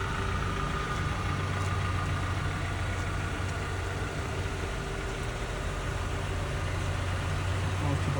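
A 2010 Ford Ranger pickup's engine idles steadily, a low constant hum with faint mechanical tone, close and unchanging throughout.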